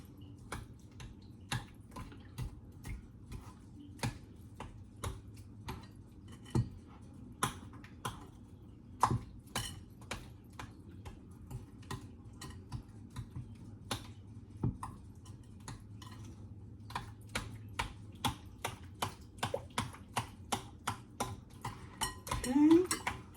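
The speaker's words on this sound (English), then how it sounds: "we're gonna go ahead and mix this all together" Icebox roll dough ingredients, salt among them, are stirred together in a bowl, giving a long run of quick, regular utensil clicks and taps against the bowl, close up and fairly quiet, faster toward the end.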